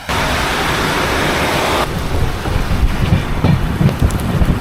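Steady rain-like hiss and rumble inside a moving train, the Veraval Express 16334, running from Kerala to Gujarat, with a loud even wash that drops and turns bumpier with rattling partway through, and no talk.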